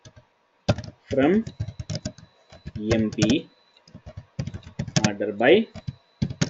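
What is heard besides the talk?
typing a SQL query on a computer keyboard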